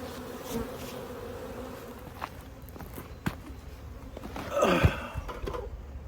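Bees buzz around the hives in a bee yard, a close, steady insect hum with footsteps and brief rustles as someone moves among them.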